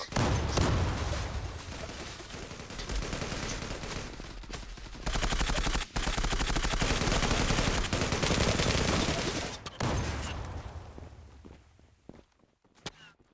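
Dense, rapid gunfire from the online shooter game Zula, with sustained machine-gun bursts and shots layered over footstep-like clatter, loud and continuous before thinning into scattered final shots.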